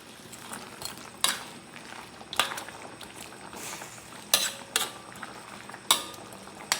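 A spoon stirring chicken adobo with bay leaves in a metal pot, a series of sharp scraping clinks against the pot at irregular intervals over a soft background, fairly quiet and close.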